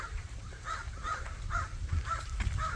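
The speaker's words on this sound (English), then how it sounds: "The crows are angry today." Several crows give repeated harsh caws in a steady rhythm, about five calls spaced roughly half a second apart, moderately near over a low outdoor rumble.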